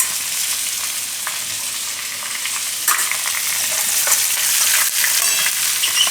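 Asafoetida hitting hot oil in a pan for a Gujarati stuffed ridge gourd curry gives a loud, steady crackling sizzle, with a few sharper pops and faint stirring scrapes, no speech.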